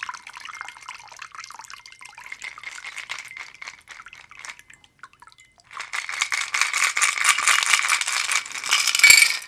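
A Brandy Alexander cocktail is poured from a shaker into a martini glass, a close, thin trickling and rattling stream that pauses midway, then resumes louder for the last few seconds.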